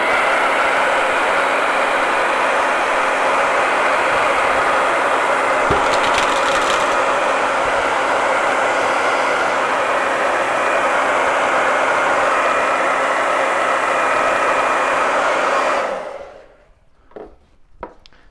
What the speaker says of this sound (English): a little noisy while I dry this